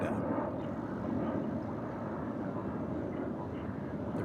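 A passenger airliner in retro livery departs DFW International Airport bound for Bismarck, North Dakota, its engines a steady, broad roar that holds level throughout with no voices over it.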